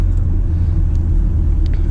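BMW X3 M40i with four-wheel drive accelerating hard in the low gears: a steady, loud low engine rumble with road noise throughout, no voices.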